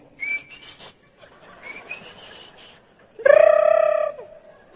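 A human voice mimics a small songbird, trying a few thin whistled notes before breaking into a loud, bright trilled whistle near the end, with no talk over it.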